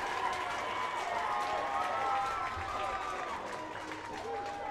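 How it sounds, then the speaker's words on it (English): A high school baseball championship crowd cheers and claps after a run scores, a faint, distant roar that runs steadily under a commentator's talk. "And once again, the crowd is ecstatic."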